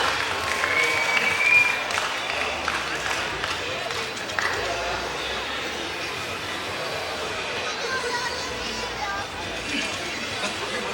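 Steady applause and crowd chatter from an audience at an Onam stage show, welcoming a performer onto the stage, continuous and moderately loud under an announcer's voice.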